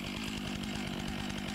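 A chainsaw cuts into a standing tree being felled, with a wedge in the cut and a rope pulling it. The engine drones loud and steady at high revs throughout, close by, with no talk.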